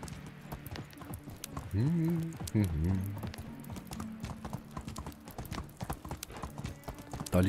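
Horse hooves clip-clopping in the medieval life-sim game Medieval Dynasty, a steady patter of hoofbeats running through the scene while someone talks over it.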